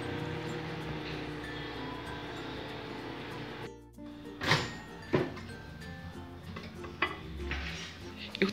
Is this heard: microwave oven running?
yes